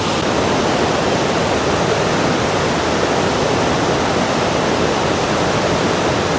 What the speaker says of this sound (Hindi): Like all of the waterfalls, this is very loud as well, but this is really cool.